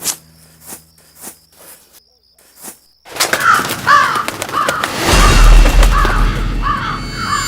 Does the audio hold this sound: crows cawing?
yes